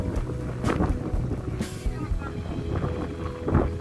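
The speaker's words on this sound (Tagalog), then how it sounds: "Lakas ng hangin." Strong wind buffets the microphone in a continuous low roar, with rushing gusts and voices faintly mixed in underneath.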